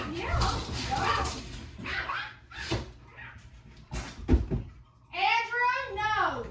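Several dogs whine and whimper at the door, eager to be let outside, with high drawn-out cries rising near the end while people talk in a busy household.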